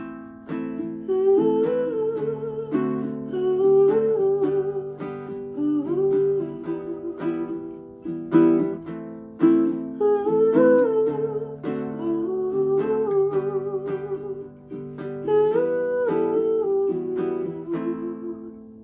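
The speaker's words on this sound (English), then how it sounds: "try humming along a melody" Plucked baritone ukulele chords strum steadily while a soft hummed melody rises and falls over them, no words, continuous and fairly close.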